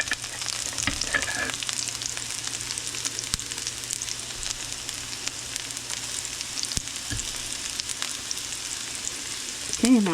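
Shallot fries in a saute pan, giving a steady close sizzle with a few light clinks and stirring taps throughout.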